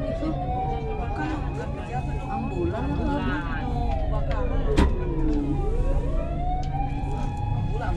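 An ambulance siren wails as it passes on a road near Mount Fuji and Lake Kawaguchiko in Japan, its rising and falling tone bending in pitch as it goes by, while people talk nearby.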